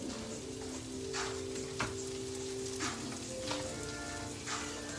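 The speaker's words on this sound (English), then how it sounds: "we'll give our onions a little help to help them sweat" Onions sweating in a pan give a steady, soft sizzle with a few faint clicks of stirring, alone with no talking, under a low background hum.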